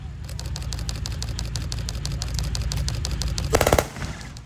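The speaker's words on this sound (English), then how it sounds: "gentlemen in the back, can you fire off a few bursts?" A machine gun fires a long, rapid, even-paced burst from a military vehicle, close and loud over a low engine rumble, then a short, sharper final volley before the shots stop.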